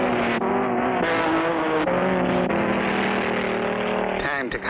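Cartoon race cars from a 1959 road race roar along a straightaway, a loud steady engine drone with shifting pitch as they speed by, a brief whoosh near the end.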